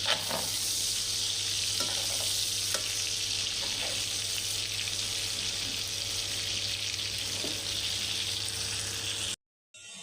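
Chicken pieces fry in butter in a pan, giving a steady, close sizzle with soft crackles throughout and no voices.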